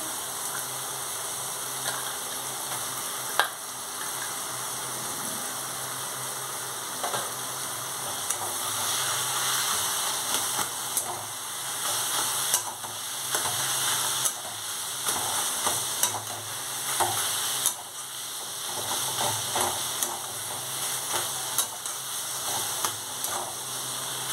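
A medium-sized boiled potato goes into a hot frying pan and sizzles steadily, with intermittent scraping and stirring strokes over a continuous close, moderately loud hiss.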